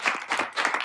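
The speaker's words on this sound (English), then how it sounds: "let's give Duncan a round of applause" Audience clapping to welcome a guest speaker at a university lecture, a short burst of moderate applause with uneven rhythm, no talking over it.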